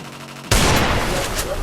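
Dense, loud gunfire erupts abruptly from the Free Fire battle game after a brief quieter lead-in, continuing as a sustained rattling barrage.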